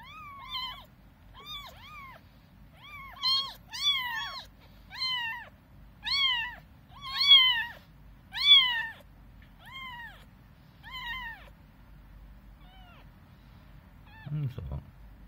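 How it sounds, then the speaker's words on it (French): Several wild baby kittens without their mother meow repeatedly in quick, high-pitched cries, loud and close, trailing off toward the end with a brief rustle. "dès que j'ouvre, voilà, c'est le miaulement total."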